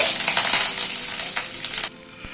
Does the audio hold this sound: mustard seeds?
yes